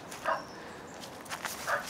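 Dogs bark a few times at moderate distance along a garden path in autumn, two short barks sounding against quiet outdoor ambience.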